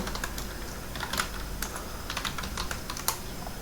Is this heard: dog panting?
no